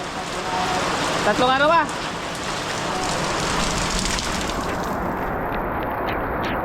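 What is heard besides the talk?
heavy rain falling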